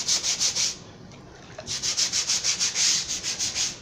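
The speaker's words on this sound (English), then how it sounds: "Nice little bead of detergent, and then just start scrubbing" A shirt collar is scrubbed with detergent in quick rhythmic strokes, a close, bright brushing rasp in regular bursts, with a short pause partway before the scrubbing picks up again at the same fast pace.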